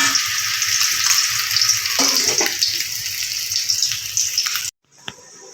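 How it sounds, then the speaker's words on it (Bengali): Fish head masala sizzling and frying dry in a pan with no water added, a steady loud crackle that cuts off abruptly near the end, leaving quieter faint sizzling. "জল ছাড়াই এটাকে ভালো করে কষিয়ে নেবো একটু সময় ধরে।"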